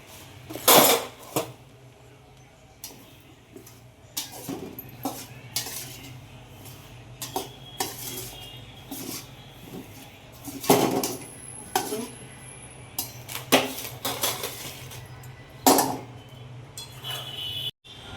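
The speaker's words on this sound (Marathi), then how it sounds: "मला राजगिऱ्याच्या लाया भाजून घेतोय, स्लो गॅसवर भाजायचे, एकदम स्लो" Amaranth (rajgira) puffs being dry-roasted in a pan over a very low gas flame, with sharp metallic scrapes and clinks of a spatula against the pan coming in irregular bursts over a quiet background.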